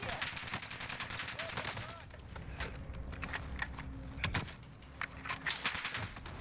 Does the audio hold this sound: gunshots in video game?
yes